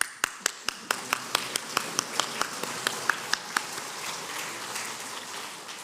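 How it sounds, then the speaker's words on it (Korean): A church congregation claps together in a steady, even beat of about a dozen and a half sharp claps, which then dissolve into looser, softer applause. "다시 한번 우리 옆에 분에게 박수 쳐주시겠어요?"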